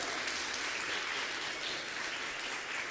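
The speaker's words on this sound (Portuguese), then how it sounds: "Você pode aplaudir ao Senhor?" A church congregation applauds steadily and loudly for the full stretch, a dense, even wash of many hands clapping with no speech over it.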